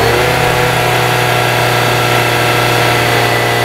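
Engine of a 2010 Jeep Patriot held at a loud, steady rev, a close, continuous drone with a strong low hum and no talk over it.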